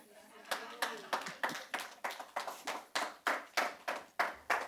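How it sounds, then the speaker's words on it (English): An audience welcoming a speaker at a networking masterclass gives a few people's rhythmic clapping, roughly a dozen evenly spaced claps at moderate volume, sounding thin rather than a full crowd. "let us give a roaring welcome to Lebo Lion."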